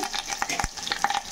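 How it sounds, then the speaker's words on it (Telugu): Curry leaves and cumin frying in a pan give soft sizzling with clicks and scrapes of stirring, close and continuous, no talk. "ఇవి కొద్దిగా వేగాలి."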